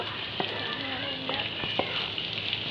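Ginger and green chillies sautéing in hot oil with onion, garlic and popped mustard seeds in a pan, a close, steady crackling sizzle with a few sharp spatula scrapes and taps, no voices.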